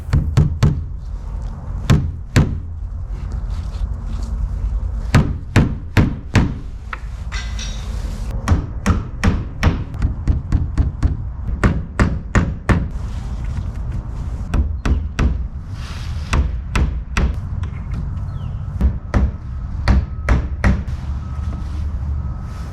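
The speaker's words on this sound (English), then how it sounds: "The hammer and nail worked much better" Hammering nails into a wooden garden shed wall: a long run of sharp, close hammer blows, sometimes spaced and sometimes in quick bursts, ringing against the timber over a low background hum.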